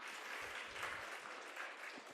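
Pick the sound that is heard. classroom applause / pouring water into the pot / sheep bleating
classroom applause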